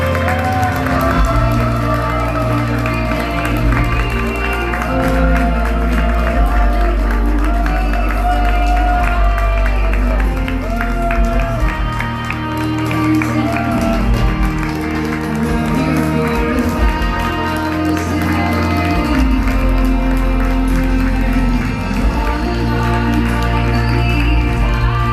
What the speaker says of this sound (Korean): 축하의 박수 부탁드리겠습니다.